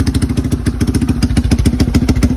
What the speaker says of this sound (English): suppose you guys can hear that exhaust